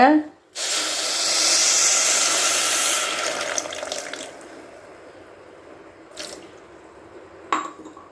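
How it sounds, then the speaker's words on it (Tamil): Water poured from a cup over a cup of sugar in a pan to make sugar syrup for a sweet; a steady broadband pour for about two seconds, then fading trickle with a couple of brief clinks. "ஒரு கப்புங்க மூழ்கிற அளவுக்கு தண்ணி விடுங்க"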